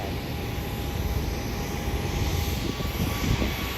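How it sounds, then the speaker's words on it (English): Southwest Airlines airliner taxiing toward the runway at Hollywood Burbank Airport, a steady broad engine roar and whine that holds evenly throughout at moderate distance, with no talking. "Southwest Airlines heading to Albuquerque, now taxiing to the runway for her departure to Albuquerque."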